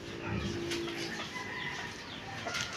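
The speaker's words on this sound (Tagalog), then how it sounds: "Nalimlim ang manok na ari" Soft, low clucking from a brooding hen close by, murmuring steadily over faint outdoor background noise.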